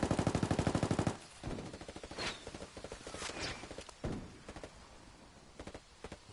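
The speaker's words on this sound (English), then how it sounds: "I'm taking fire." Ghost Recon Wildlands gunfire opens with a fast, loud automatic burst of evenly spaced shots. Scattered single shots, impacts and shuffling movement follow at a lower level, with no talking.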